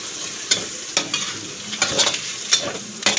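Pork cubes and shrimp paste are stirred in a hot pan, with scraping spatula strokes at a steady rhythm over a continuous close sizzle of frying fat.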